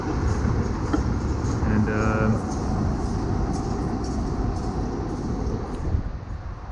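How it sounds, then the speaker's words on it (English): Trains pass near a London penthouse overlooking Canary Wharf, giving a steady, loud rail rumble that lasts throughout with a brief rattling swell early on. A voice speaks over it. "There's a train and another one"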